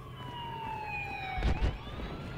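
Police car siren in Battlefield Hardline, a clear wailing tone sweeping slowly downward then climbing again, with a couple of heavy thuds and bursts of noise around the middle.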